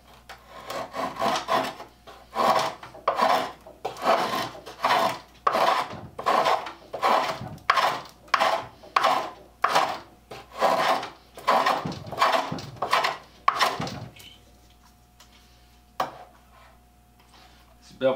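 A draw knife held bevel up shaving a piece of pine, about a dozen rhythmic rasping strokes in steady succession, close and loud, then a quieter pause with a faint hum.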